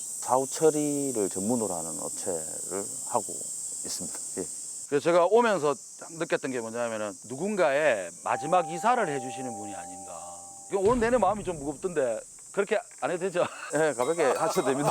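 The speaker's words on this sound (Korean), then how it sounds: "지금 매미도 울고 있고" Cicadas droning outdoors on a summer day, a steady high buzzing band running continuously beneath two people talking in Korean.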